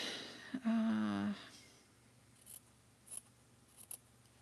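Scissors snip through paper for a journal envelope pocket, a few quiet, separate crisp cuts after a short hum, close and otherwise near-silent.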